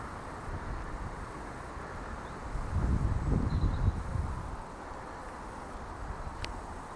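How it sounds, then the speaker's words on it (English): A car passes along a country lane beside a village churchyard in Risby, the engine and tyre swell rising and fading over a few seconds against steady outdoor ambience. "Sound of cars going by on the lane."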